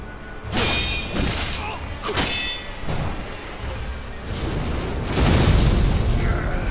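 Fire attack in the video game Sekiro, with repeated loud bursts and booming whooshes, clanging hits and crackling rumble that swells toward the end.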